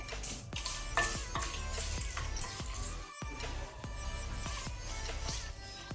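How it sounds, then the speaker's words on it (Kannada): Cashews frying until golden in a pan over a medium flame, with a soft, steady sizzle and regular rhythmic spoon scrapes and clicks roughly every half second, faint but close. "ಗೋಡಂಬಿಯಲ್ಲಿ ಗೋಲ್ಡನ್ ಕಲರ್ ಬರಬೇಕು, ಅಲ್ಲಿ ತನಕ ಫ್ರೈ ಮಾಡುವ."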